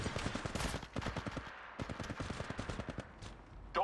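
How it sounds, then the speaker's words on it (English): Rapid bursts of automatic gunfire in Apex Legends Mobile, loud and close, with rattling volleys that pause briefly before resuming and a final sharp shot at the end. "I'm taking the shot"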